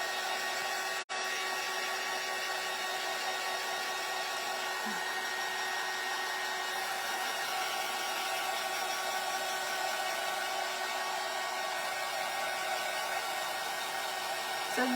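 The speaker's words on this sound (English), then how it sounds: "So you do have to be somewhat careful when you're using these tiles and a heat gun" A heat gun blows hot air over craft tiles with a steady, close, continuous whoosh and hum, unbroken apart from one brief click near the start.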